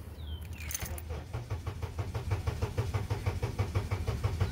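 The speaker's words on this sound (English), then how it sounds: "So we're going to start the engine now." A Honda or Acura car engine cranks for a long time with a steady rhythmic churning as it relearns its crank position after a P0300 misfire repair, then catches and starts, loud and close with no voices.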